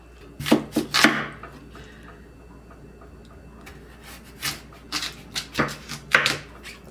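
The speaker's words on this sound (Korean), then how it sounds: "무를 이렇게 나박나박 썰어줍니다" A knife slices radish into thin square pieces for nabak water kimchi, giving crisp, irregular chopping taps on a board in small clusters with quiet gaps between.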